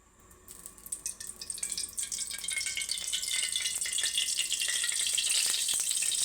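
White oil, about a cup, sizzling in a hot wok set on the stove, the hiss swelling from a quiet start into a loud, steady crackle with scattered pops close by.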